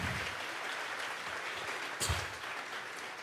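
A church congregation claps together in a live service, a dense, sustained round of applause at close range with a brief louder burst near the end, no talking over it.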